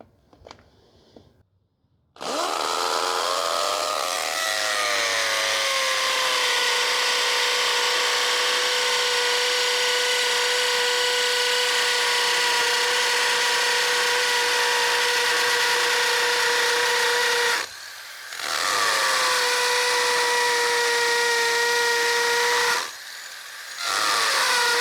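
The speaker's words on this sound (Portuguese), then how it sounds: "vamos utilizar aqui agora a função martelete para furar esse bloquinho aqui" A Makita hammer drill with a carbide bit bores into a cement block, a loud sustained whining roar that runs continuously, briefly stops, restarts, then cuts out once more near the end.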